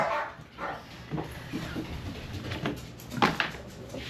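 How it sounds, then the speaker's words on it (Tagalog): Several dog barks and yips scattered across a few seconds, moderately close, with faint background noise between them. "May mga aso sila."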